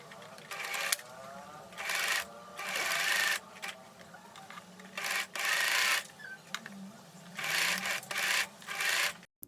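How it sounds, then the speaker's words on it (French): A sewing machine stitches the hem of a gathered halter dress in repeated bursts of rapid whirring, each a second or two long with short pauses between, close and fairly clear. "Surjetez le bord, pliez en deux et cousez."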